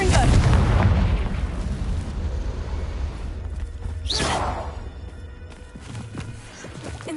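A Confringo blasting spell explodes in the Hogwarts Legacy video game, a deep booming blast that rolls into a long rumbling decay, with a whooshing burst partway through.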